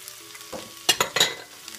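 Sausage with its fat, onions, celery, sage and apples sauté in a pan for paleo Thanksgiving stuffing, giving a soft, steady sizzle broken by a few louder scraping stirs near the middle.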